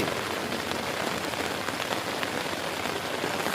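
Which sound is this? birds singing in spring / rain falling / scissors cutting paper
rain falling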